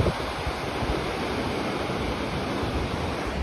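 A mountain river near Kasol roars loudly and continuously, a dense close rush of water with no pauses or voices.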